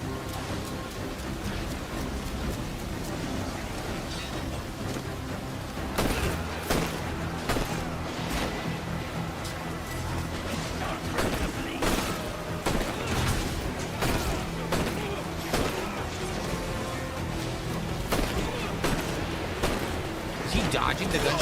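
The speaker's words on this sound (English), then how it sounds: "He's dodging the gunshots." Rapid bursts of video game gunfire crackle in repeated volleys over a dense, noisy background, loud and continuous through most of the stretch.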